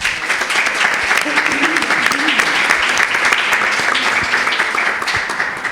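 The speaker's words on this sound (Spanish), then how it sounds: "Un aplauso para Antón, por favor, también." Sustained audience applause at a book presentation on the Camino de Santiago at a Galician cultural house, a steady even wash of clapping lasting several seconds.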